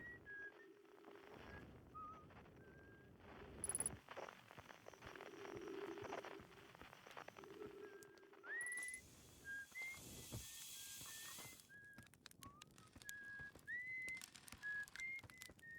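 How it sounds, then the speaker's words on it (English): Whistling from a character in the space exploration game Outer Wilds, a series of short rising melodic tones repeating across the clip over soft ambient game sound, with some hissy and clicky effects. "weren't we hearing whistling coming from here?"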